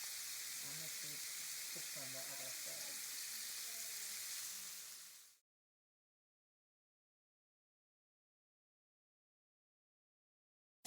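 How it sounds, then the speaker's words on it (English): Flour-coated chicken, the flour mixed with cornstarch, fries in hot oil with a loud, steady sizzle and crackle up close, then cuts off abruptly into silence halfway through. "So while the chicken frying up"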